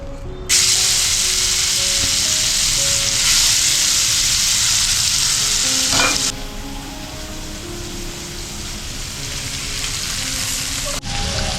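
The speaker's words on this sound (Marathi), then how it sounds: "पॅनमध्ये तेल घातलं आहे पॅन तापला आहे मसाला ॲड करतो यात थोडंसं मीठ हे फ्राय करायचं आपल्याला" Masala with a pinch of salt frying in oil in a hot pan for lemon rice, a steady loud sizzle and hiss that drops slightly midway and continues without talk.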